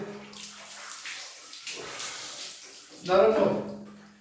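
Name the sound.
bathing by pouring water from buckets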